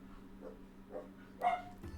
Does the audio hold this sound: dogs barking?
yes